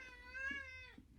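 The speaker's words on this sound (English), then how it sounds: "that's a cat." A cat gives a drawn-out, clear meow close to the listener, with a second shorter cry trailing off at the end, and no talking over it.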